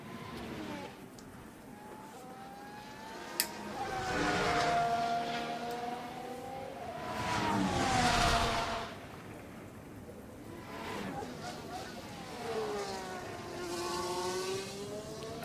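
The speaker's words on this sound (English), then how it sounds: "Antonelli, Bottas, Bearman and Lawson have all left the garage as well" Race cars in the F1 Manager 24 video game circling the Canada circuit, their engine notes rising and falling with several whining passes and Doppler sweeps, steady mid-level and continuous throughout.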